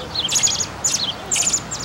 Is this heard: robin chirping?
yes